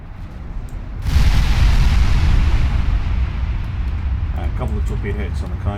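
Torpedo hits on the German battleship Kaiser in Ultimate Admiral Dreadnoughts: a sudden heavy boom that rolls into a long, loud, low rumbling roar that slowly fades, with faint distant pops near the end.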